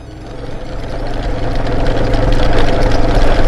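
A motorcycle rattles over a long stretch of corrugated dirt road, its engine throbbing under a rapid, juddering vibration that grows steadily louder and rougher, close and continuous.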